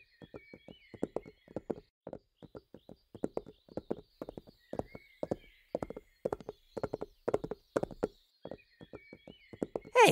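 Hooves of a horse pulling a carriage clip-clop in a steady walking rhythm in a horror video game, crisp and fairly close, with faint tonal ambience behind and a sharper hit at the very end.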